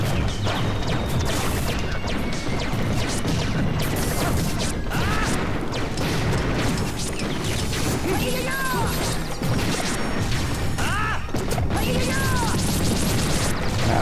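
Loud, continuous crashing and smashing from a Super Smash Bros. Brawl story-mode battle, with whooshes, impacts and bright shattering bursts layered densely over game music for the whole stretch.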